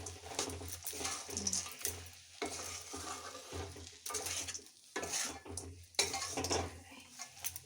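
Peanuts are stirred in a pan while making Makar Sankranti sweets, with repeated scraping and clattering of the spoon against the metal and a light sizzle underneath, in uneven strokes close by.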